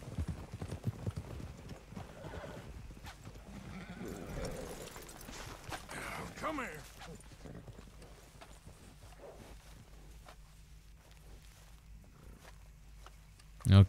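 Horse hooves clip-clop in Red Dead Redemption 2, a steady walking rhythm that is loudest early on and fades to a faint patter under background ambience, ending with a sharp thump.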